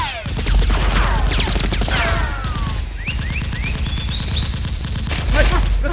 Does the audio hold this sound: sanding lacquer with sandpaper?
no